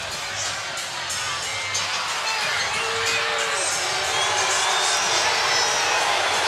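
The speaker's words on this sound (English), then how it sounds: "crowd here at Texas A&M is responding to the replay" Crowd at a Texas A&M women's basketball arena reacts to a replay, a sustained far-off murmur and groan of many voices with scattered shouts filling the arena.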